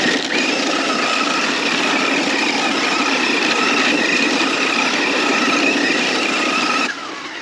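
A battery-powered RC basher car runs at full throttle, its high electric whine loud and steady for about seven seconds before it drops off abruptly, with no talking.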